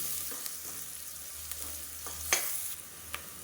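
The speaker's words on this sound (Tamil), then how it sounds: "எல்லாமே நல்லா வதங்கிடுச்சு" Garlic and spices sauté in a pan for a Madurai-style black chickpea curry, a low, steady sizzle broken by a few faint scrapes and clinks of stirring.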